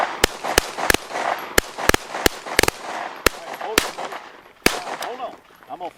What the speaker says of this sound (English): he's really smoothly pulling that trigger and it hits that sweet spot that's a machine gun